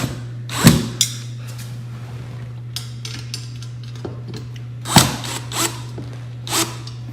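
A power drill drives screws into U-channel glazing during a master bathroom glass installation, giving two short, loud bursts with small clicks and handling noises between them over a steady low hum.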